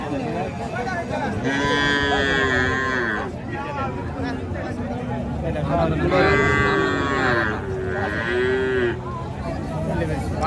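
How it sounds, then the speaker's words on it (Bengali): Several loud, drawn-out moos from a bull at a cattle market, close by, rising and falling over a busy background of crowd noise and chatter. "দেখতে পাচ্ছেন ষাঁড় গরু"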